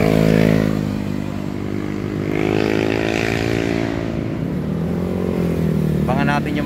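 Big bike motorcycles passing on a road, engines droning and shifting pitch as they go by at moderate distance, mixed with someone talking over the traffic noise.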